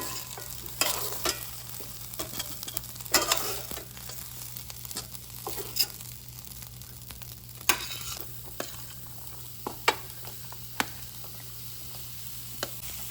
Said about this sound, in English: Potatoes you have to brown all sides.